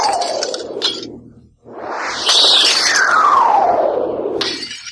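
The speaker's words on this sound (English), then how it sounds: "The batarang leapt from mirror to mirror, smashing each one in a hailstorm of broken glass" Mirrors shattering one after another in a funhouse, loud crashes of breaking glass with bright tinkling shards and a sweeping whoosh, several smashes in quick succession.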